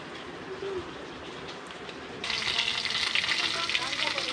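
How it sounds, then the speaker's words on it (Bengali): Pieces of rohu fish frying in oil in a kadai, a steady close sizzle that grows louder and brighter partway through. "মাছগুলো ভালো করে ভাজা হয়ে গেছে, এবার তুলে নেব।"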